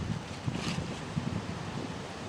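Strong wind blows steadily past the microphone on a coast with waves and hidden boats, a constant loud roar with gusting buffets.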